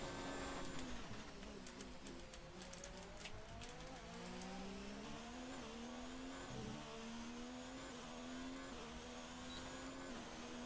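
Formula 1 race car engine in F1 2019 at the Bahrain Grand Prix during qualifying, a high whining drone rising and falling through gear shifts, steady and continuous with no talking.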